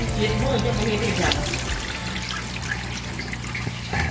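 Fish being rinsed clean under a running tap, a steady trickle and splash of water into a sink with faint dripping, carrying on throughout with low background noise.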